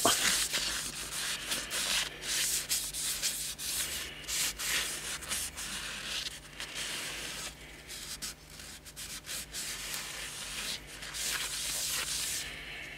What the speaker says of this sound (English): a bit of sanding sealer on the bowl bit